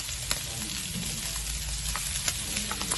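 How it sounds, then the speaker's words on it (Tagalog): Garlic and onion sizzling in a pan for jackfruit cooked in coconut milk, a close, steady frying crackle with light spatula stirs and scattered pops. "ilalagay na natin ang ating bawang at saka yung ating sibuyas"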